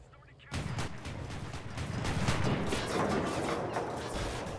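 Tank fire in War Thunder, including a 40mm gun, a loud dense stretch of rumbling shots and impacts that starts abruptly and continues steadily to the end.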